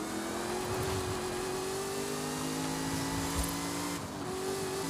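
A hypercar engine drones at high revs with tires squealing through a corner in Forza Horizon 5, a loud continuous engine tone with a brief dip in pitch partway through, alone without talk.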